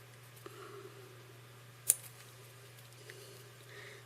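Scissors make one quick, crisp snip through white hair on an Atlantic salmon fly at the tying bench. The cut is quiet and isolated, with a fainter click shortly before it.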